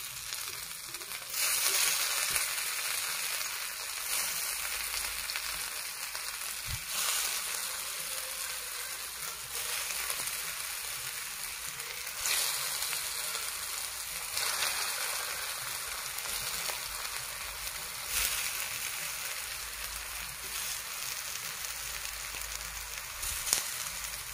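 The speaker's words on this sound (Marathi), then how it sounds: "हे बघा असं तेल गरम झालं ठेवून घ्यायचे वड्या।" Kothimbir vadi, crisp coriander fritters, fry in hot oil on a large tawa, giving a steady, close, continuous sizzle that holds fairly even throughout with no talk over it.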